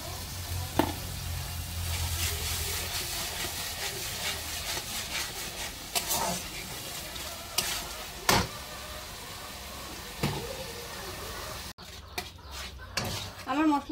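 Spice paste with turmeric and salt stir-fried in a pan for Bengali mochar ghonto, a low sizzle under repeated scraping and clattering strokes of a spatula, with some faint voice in the background.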